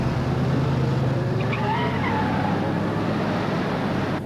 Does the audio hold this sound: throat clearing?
no